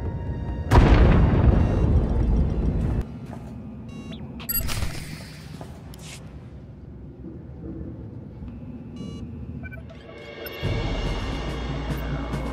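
Shield generators blowing up in SWTOR, a Star Wars sci-fi game: a heavy booming blast rumbles for a few seconds, followed by smaller crackling detonations and sustained rumble near the end.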